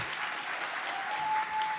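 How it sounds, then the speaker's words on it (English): Applause for the contestants on stage at the Miss World America pageant, a steady, dense wash of clapping from the audience that holds throughout. "let's give a big round of applause for the other contestants on stage"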